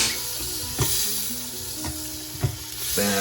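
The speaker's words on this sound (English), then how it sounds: "then I put a little butter in there coming up and sauteed some onions" Onions sauté in butter inside an Instant Pot, a soft steady sizzle punctuated by a few distinct spoon knocks and scrapes against the pot, with no talking.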